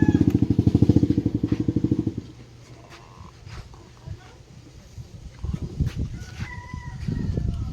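A motorcycle engine idles and revs close by in a rhythmic pulsing putter, then cuts off, followed by quieter rustling and a chicken or rooster calling in a rural yard as people talk.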